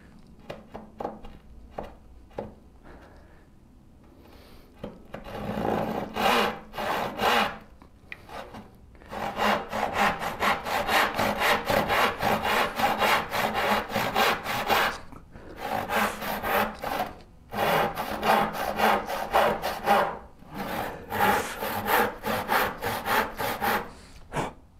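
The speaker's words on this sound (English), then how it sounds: "we're ripping down to actual width" A hand saw rips a board down to width in steady back-and-forth strokes, a few tentative starting strokes at first, then long rhythmic bursts with brief pauses, close and clear.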